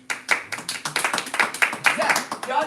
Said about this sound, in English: Clap it up for that.